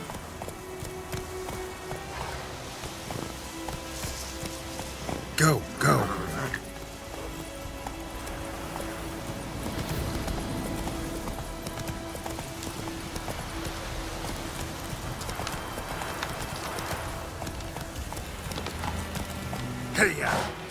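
In The Witcher 3, the horse Roach gallops with a steady, rhythmic clip-clop of hooves throughout, close and fairly loud, while a voice urges the horse on over a game background.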